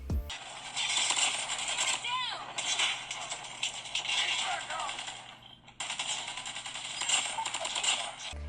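Gunfire in the mobile shooter Call of Duty Mobile, played on a Narzo 50 5G phone: sharp game shots and effects come in rapid bursts over a steady background, with a voice speaking over the action.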